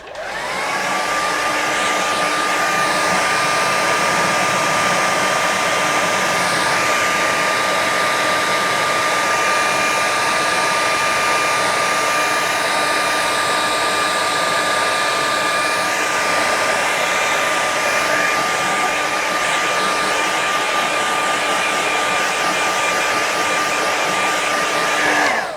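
A hair dryer blows steadily over a watercolour painting, a loud, continuous whooshing roar with a steady whine that holds unbroken from start to finish, close up and alone.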